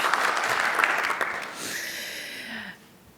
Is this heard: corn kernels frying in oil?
no